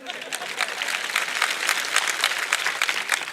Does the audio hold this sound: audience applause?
yes